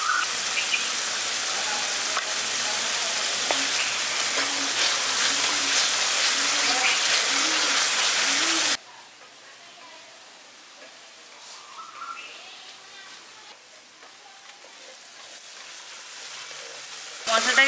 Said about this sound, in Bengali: মশলাটাকে খুব ভালো করে ভেজে নিয়েছি